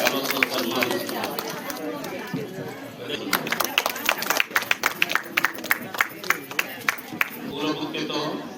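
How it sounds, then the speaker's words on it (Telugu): Villagers at a health camp in a BC colony's primary health centre clap, sharp irregular claps rising out of crowd chatter, growing denser and louder midway, with a voice speaking over it. "ఒక్కసారి చప్పట్లు కొట్టండి అందరూ"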